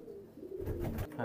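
A single short, soft coo comes from a pigeon at a farm keeping Pakistani bloodline pigeons. It is faint and low-pitched and heard alone.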